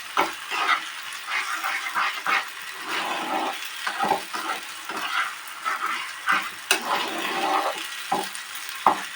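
A spice masala sautéed in oil in a pan gives off a steady crackling sizzle, broken by the repeated scrape and clatter of stirring.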